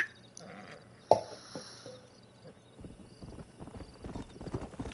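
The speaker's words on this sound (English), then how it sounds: "We got some fine horses." Horse hooves clip-clopping at a steady walking rhythm in the Red Dead Redemption video game, faint at first and then growing clearer, with no talking.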